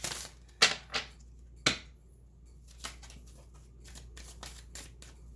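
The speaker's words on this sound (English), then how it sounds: "I'm going to go ahead and pull from the Romance Angel cards" Oracle cards are shuffled in short, crisp riffling bursts with soft flicks and taps between them, close and fairly quiet, with no talk.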